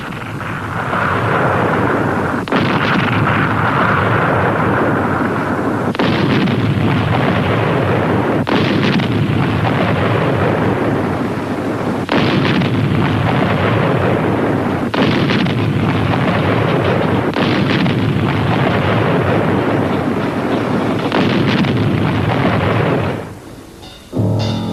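German siege guns fire at Leningrad, loud heavy booms landing every few seconds and each rolling into a long rumbling tail, with a constant dense roar between blasts.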